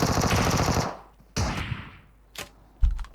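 Video game gunfire from a shotgun and an Uzi: a sustained rapid automatic burst, then a sharp single blast and two more close, loud shots after brief pauses.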